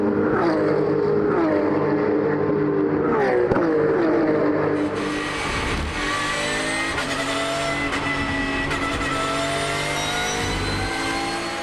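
Race cars lapping the Paul Ricard circuit in a late-day race, several loud engines screaming past in overlapping waves of rising and falling pitch, then a steady dense roar of the field.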